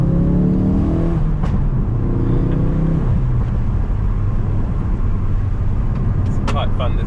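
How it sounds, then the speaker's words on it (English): A Ford Focus RS drives along a country lane, its engine droning under load, then easing off as crackling pops and bangs come from the exhaust; a voice talks over the engine. "you can just hear the exhaust just popping and banging a bit there."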